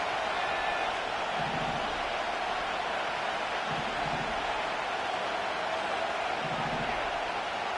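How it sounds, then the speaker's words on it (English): Stadium crowd at a Panthers versus Raiders football game roars as a steady, dense wash of distant noise late in the fourth quarter, holding constant throughout with no distinct voices. "This crowd turning up the decibel level."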